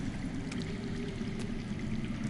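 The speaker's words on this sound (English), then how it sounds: "That's water. I hear water. From underground." Underground water in a Game of Thrones video game, a steady low rushing flow with faint trickling, continuous and moderately close with no talking.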